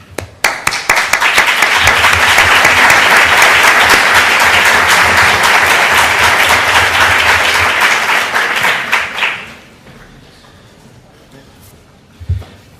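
Sustained applause from an audience at the opening session of an education lecture, a dense loud wash of clapping that swells quickly, holds for several seconds, then thins out and fades into quiet room tone.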